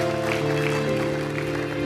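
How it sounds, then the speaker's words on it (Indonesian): A church congregation applauds during a worship service, steady clapping blended under sustained keyboard chords that carry through the whole moment. "Tepuk tangan buat Tuhan kita."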